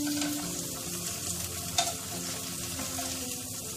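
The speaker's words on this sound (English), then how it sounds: "Now I'm gonna fry my egg in the same wok and the same oil." Food frying in hot oil in a wok gives a steady, dense sizzle with a brief clink near the middle, heard up close with no talking.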